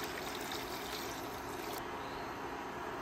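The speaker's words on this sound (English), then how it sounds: "Cover it up with water." Water pours steadily into a pot of potatoes set to parboil, a continuous close trickling and splashing that runs alone for about three seconds.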